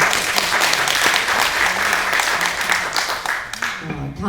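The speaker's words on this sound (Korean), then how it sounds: "귀한 말씀해주신 오성열 국장님께 큰 박수 부탁드립니다" A hall audience gives a big round of applause for director Oh Seong-yeol at a memorial ceremony, dense steady clapping filling the whole stretch, loud and close, fading slightly at the end.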